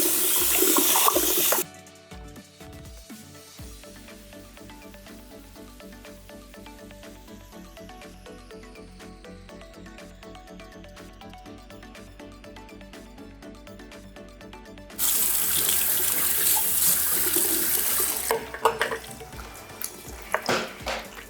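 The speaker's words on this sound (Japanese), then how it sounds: "シャンプー台にちょっとお湯をためていただいて、チェンジリンスをしていきます。" Hot water runs into a salon shampoo basin in loud rushing bursts at the start and again later, with a quieter steady hum and trickle in between, close by and without speech.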